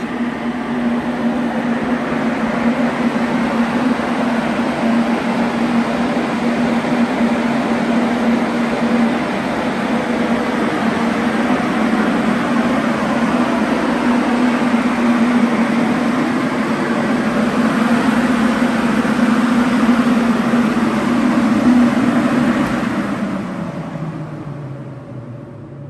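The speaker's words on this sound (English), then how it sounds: "That exhaust fan is moving a lot of air." An exhaust fan in a paint booth built for a Rans S-21 aircraft roars steadily with a constant hum for over twenty seconds, then winds down as it is turned off at the end.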